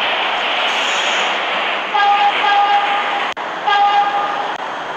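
A simulated R46 E train on the 8th Avenue local in a subway simulator game hums and whines loudly with tonal motor pitches, a sharp click partway through, continuous and close.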